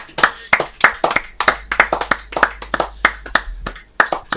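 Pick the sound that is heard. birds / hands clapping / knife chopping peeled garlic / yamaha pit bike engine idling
hands clapping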